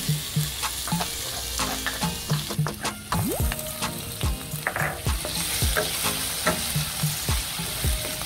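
Garlic frying in hot oil for a Filipino shrimp and squash coconut dish, a steady close sizzle with rhythmic stirring scrapes repeating through, no voices.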